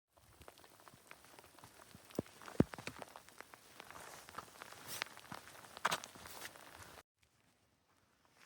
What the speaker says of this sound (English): Looks like we'll be putting up a wet tent in the rain again.